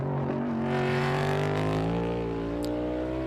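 A race car at practice for the 2022 Verizon 200 brakes hard into a left-hand corner, its engine a loud, continuous drone whose pitch slides and shifts as it slows.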